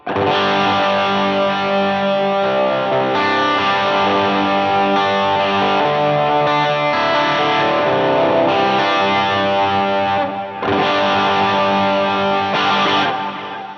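Sustained electric guitar chords through a Dumble-style Line 6 Helix patch with overdrive distortion, ringing out with delay and reverb trails, changing chords every couple of seconds, loud and continuous.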